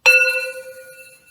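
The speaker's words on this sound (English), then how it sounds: "With sound, I'm going to just ring a bell." A single struck bell rings out clearly, with a sharp attack followed by a long, pure, shimmering decay that slowly fades in a quiet room.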